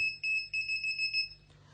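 A gas leak detector buzzer alarm on a microcontroller project beeps in a rapid steady high pulsing pattern, close and clear over faint hum, cutting off near the end.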